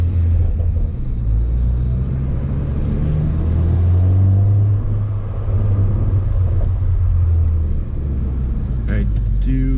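A Ford Focus ST fitted with a Mishimoto air intake cruises with the windows down, giving a steady low engine rumble and road noise that swells and eases slightly over about ten seconds.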